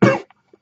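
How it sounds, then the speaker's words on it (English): A single short, sharp cough, close and loud, followed by a near-silent pause with a faint breath and mouth noise. "Sorry about that cough."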